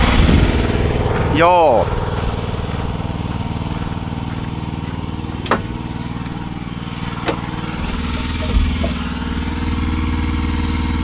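A small engine on a log splitter sputters and struggles to start, a steady low rumble with a few surges and a brief squeal near the start, heard close by while someone speaks a short word.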